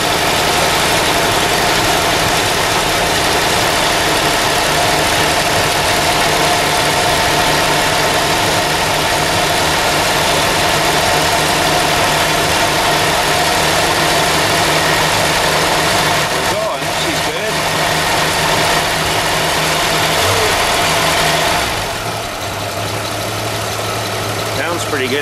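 A 1989 Jeep YJ engine idles with two ignition wires off, a steady, loud mid-low rumble that runs unbroken for the whole stretch, with some vibration, a few brief shifts and a voice talking over it.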